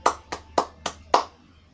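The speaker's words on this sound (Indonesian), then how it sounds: "Tepuk tangan dulu yuk untuk kita semua" A class of sixth-grade children claps together in five sharp, evenly spaced bursts in a classroom, close and moderately loud.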